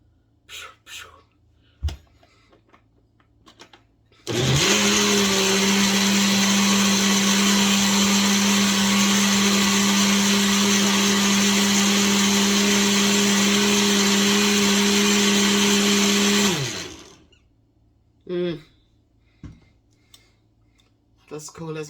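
A countertop blender whirs through a banana and mango smoothie, starting abruptly and running at a steady high-pitched roar for about twelve seconds before cutting off, with a person talking before and after.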